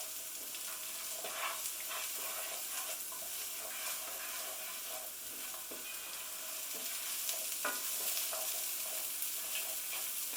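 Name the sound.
gently frying food in a pan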